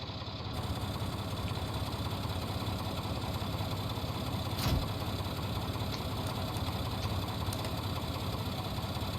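A tractor engine in Farming Simulator 19 idles steadily throughout, a continuous low rumble with a brief louder knock near the middle, with no talking.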